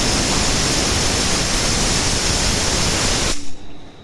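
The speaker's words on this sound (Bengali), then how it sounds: "এবার আমি আর একটা সিটি দিয়ে নেব আলুটা সেদ্ধ হয়" A pressure cooker holding goat mutton and potatoes lets off a loud, sustained rushing hiss of steam close by, which cuts off abruptly near the end and leaves a faint residual hum.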